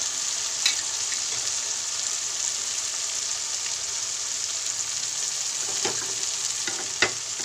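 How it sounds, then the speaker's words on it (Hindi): A tempering with tomatoes frying in a pan for a dal and spinach saag: a steady, dense, hissing sizzle throughout, with a couple of faint clicks near the end. "टमाटर गलने तक हम तड़के को अच्छे से फ्राई करेंगे।"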